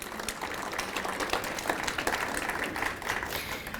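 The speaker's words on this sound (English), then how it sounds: "give her a round of applause" Audience applause at a volunteer breakfast in Farmington Hills, a moderate crowd clapping steadily at medium distance, continuous and even without talk.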